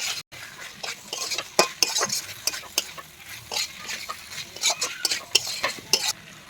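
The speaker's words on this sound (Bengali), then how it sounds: "এবারে ভেজে রাখা উচ্ছেগুলো আমি দিয়ে দিচ্ছি, দিয়ে ভালো করে মিশিয়ে নেড়াচেড়ে করে নেবো।" Fried bitter gourd pieces being stirred into sizzling spices in a pan, with steady scraping strokes and clinks of a spoon against the metal over a continuous frying sizzle, close and fairly loud.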